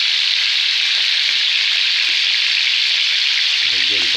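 Bullet tuna (tulingan) frying in oil gives a steady, loud hiss of sizzling fat that runs the whole time, with a few soft low knocks near the end.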